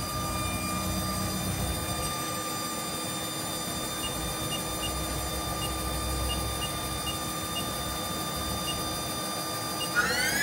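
A 2005 Haas TL-1 CNC toolroom lathe spindle turns at 1,000 RPM, giving a steady, even whine with layered high tones over a constant mechanical hum. It stays unchanged throughout until a small knock at the very end.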